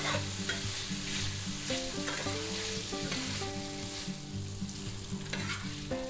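Shrimp and roasted pork fried rice stirred in a hot pan, with a continuous sizzle and frying crackle, scraping and clinking of the utensil, and music playing in the background.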